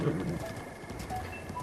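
Hooves clip-clopping steadily as a horse is ridden in the video game Breath of the Wild, under background music and talk at moderate level.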